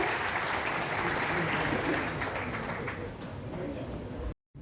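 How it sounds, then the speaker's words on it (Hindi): Audience applause welcoming a singer at a public event, a dense, steady wash of clapping at close range that holds for several seconds before cutting off abruptly. "ताली बजाकर उनका स्वागत करें"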